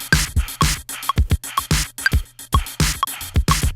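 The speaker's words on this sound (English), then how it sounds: "notice the metronome doesn't line up with it anymore" A punchy hip-hop beat, warped to 124 beats per minute, with heavy kicks and snares, a steady metronome click ticking alongside that drifts out of step with the groove.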